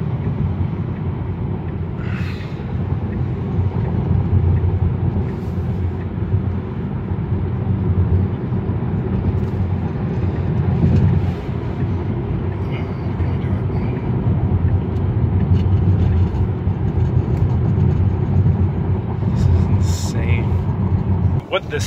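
A Tesla Model 3 drives on a road, heard from inside as a steady low rumble of tyres and road noise, with people talking throughout.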